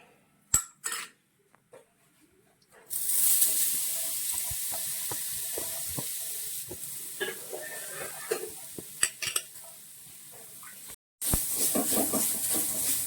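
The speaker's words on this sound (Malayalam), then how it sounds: "ലേശം വെളിച്ചെണ്ണയും കൂടി ചേർത്ത് വറുത്തെടുക്കാം." Grated coconut frying in coconut oil in a pan, a steady bright sizzle building after a few opening clinks and holding close and fairly loud, with utensil taps scattered through it.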